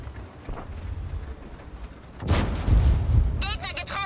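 Tank cannon shots in World of Tanks, a Leopard 1 in play: muffled booming blasts with a heavier burst of firing near the end, mixed with background game noise.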